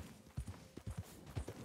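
Horse hooves in the video game Red Dead Redemption II thud at a quick, steady rhythm, soft and close, in clear clip-clop beats.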